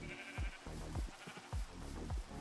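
Sheep bleating in Minecraft, a series of short, repeated bleats that come at a steady pace and sound fairly close, with no talk over them.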